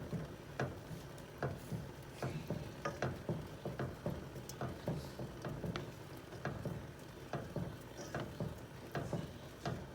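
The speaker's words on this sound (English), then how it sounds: "And continue to stir." A spoon stirs Ital stew peas in a pot, producing steady scraping and soft bubbling with regular clicking strokes, close and quiet, no talk.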